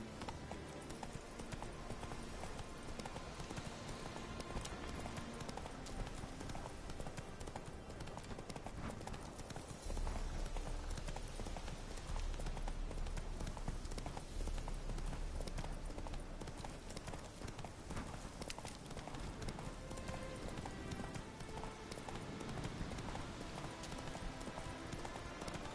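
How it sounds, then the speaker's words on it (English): Horse hooves galloping in The Witcher 3, a steady rapid clip-clop rhythm that continues the whole time over game ambience, with a brief louder stretch midway. "Whoa there, Roach"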